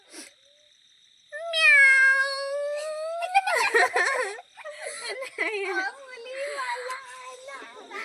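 A woman imitates a cat with a drawn-out, rising meow, followed by a few shorter mewing and whining sounds, close and loud, alone without talk.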